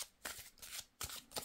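Tarot cards are shuffled by hand, with four quick, soft riffling bursts in quiet succession, close and faint.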